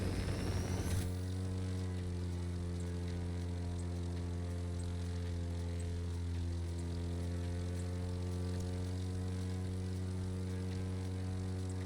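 A single-propeller stunt plane in The Crew 2 drones steadily with a loud, even engine tone after a brief burst at the start, holding constant throughout with no talk.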